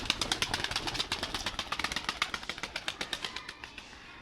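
Ankara play pigeons are let out into cold open air and move about, making a faint run of rapid clicking and fluttering taps that gradually quicken and thin out.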